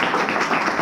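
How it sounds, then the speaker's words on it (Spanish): A church congregation claps for one of its members, a short, dense burst of applause filling the room at steady loudness. "un aplauso para el"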